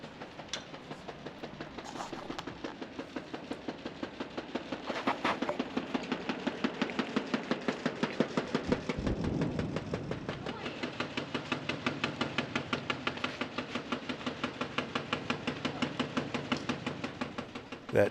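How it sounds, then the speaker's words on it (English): A door banging in the wind at an outdoor picnic area on an old airfield in Oscoda by Lake Huron, a fast, steady, machine-gun-like rattle of knocks that runs on without letup over a breezy background. "That noise is the door in the wind."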